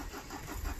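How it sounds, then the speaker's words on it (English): A tractor engine cranks and catches, a low mid-pitched rumble starting up at some distance during a honey bee dead-hive cleanup outdoors, steady and fairly quiet throughout. "Oh, I hear the tractor starting to fire it up."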